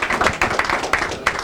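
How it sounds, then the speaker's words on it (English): A small group of people at a community question-and-answer session gives a brief burst of applause, uneven close hand claps in quick irregular rhythm, with no talk. "Give yourselves a round of applause"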